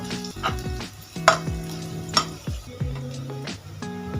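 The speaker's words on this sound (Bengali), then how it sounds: "রসুনটা লো ফ্লেমে লাল করে ভেজে নেব।" Chopped garlic and a green chilli frying in oil over a low flame, a steady soft sizzle broken by a few clinks and scrapes of a spoon against the pan.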